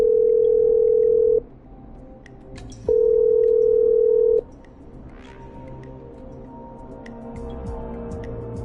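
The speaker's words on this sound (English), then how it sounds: "I'm dialing. One moment." A telephone dial tone in the Killer Frequency video game sounds in two long, steady, loud bursts separated by a short break, then gives way to a quieter background hum.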